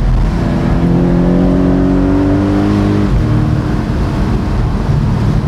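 Porsche 718 Boxster GTS mid-engine boxer pulling hard through a winding-road corner, a loud, steady engine note that climbs, dips at a shift, then builds again, with no talking.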